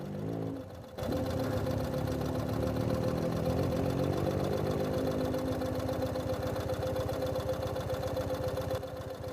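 BMW GS motorcycle engine climbing a hill on a bridle track, a steady mid-pitched drone starting abruptly and holding under load for several seconds, moderately distant.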